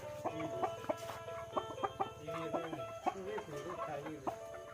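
Chickens cluck repeatedly in a farmyard, sharp bursts spread through the clip with a low engine-like hum underneath and some background voices.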